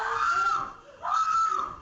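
Anguished screaming from people in terror, two drawn-out high wails with a brief dip between them, loud and close with no talk.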